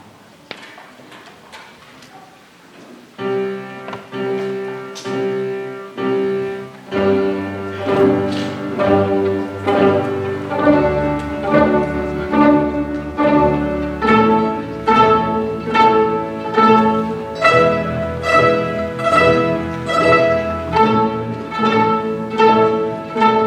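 A student orchestra plucks open strings together in a daily pizzicato warm-up, a soft scattered start building into steady, evenly timed ensemble plucks with lower strings joining, resonant and moderately loud in a room.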